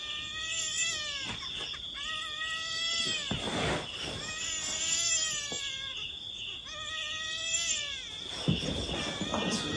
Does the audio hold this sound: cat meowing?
yes